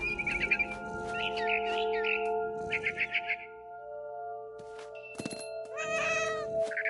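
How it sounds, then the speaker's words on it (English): A cat in the video game What Remains of Edith Finch meows several times in short, close, clear calls, with brief high chirps breaking in near the end. "And suddenly, I was a cat."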